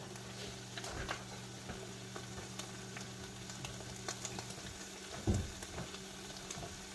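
Ingredients sauté in hot oil in a pan while being stirred, giving a soft continuous sizzle with scattered scraping clicks and one louder knock near the end, fairly faint and without talk.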